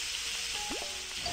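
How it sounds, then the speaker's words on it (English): Steady frying sizzle of dumplings in a pan in a cooking video game, a hissing crackle with a short rising electronic chirp partway through. "Put those dumplings in the frying pan."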